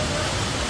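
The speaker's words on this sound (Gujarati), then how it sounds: "કામરેજમાં વરસાદ ચાલુ થઈ ગયો છે ધોધમાર" A heavy monsoon downpour pours down steadily in Kamrej, a dense, loud wash of rain noise with no break.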